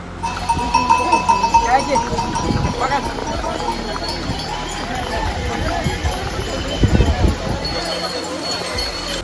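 Horses' hooves clip-clop on the stony Kedarnath pilgrimage trail, with several irregular hoof strikes and bells among livestock sounds, under voices of people talking nearby.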